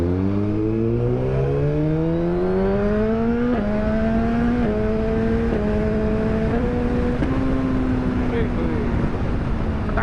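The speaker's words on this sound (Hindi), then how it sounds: "तो प्रॉपर वाले पटाखे मारे हैं बाइक ने" A Suzuki GSX-R1000R motorcycle revs and climbs through gears with a rising engine whine, sharp exhaust crackles and pops breaking through at each shift, while a rider talks over the steady drone.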